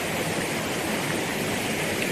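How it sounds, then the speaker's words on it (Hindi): Waterfall plunging steeply from above in a green mountain valley, a steady, dense roar of falling water filling the air without pause or voices. "ऊपर से ये झरना गिर रहा है, देखिए आप देख सकते हैं। और ये नीचे गिर रहा है बहुत तेज़ी से।"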